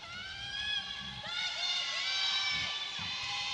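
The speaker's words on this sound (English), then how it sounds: "A lot of fans cheering for the Flying Titans." Volleyball fans cheering and shouting inside an arena during a professional women's league match, a steady roar of crowd noise with high voices rising and swelling through the middle.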